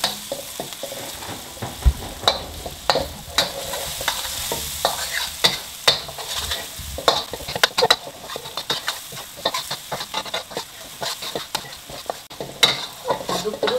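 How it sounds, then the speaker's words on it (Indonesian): Spices being stirred while frying for mie ayam give a steady sizzle under repeated scraping and clicking strokes of a utensil against the pan, close and continuous with no talking. "Aduk-aduk terus."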